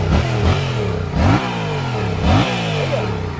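A new motorcycle engine revs repeatedly up close, three rising blips over a steady idle, loud and alone with no talking.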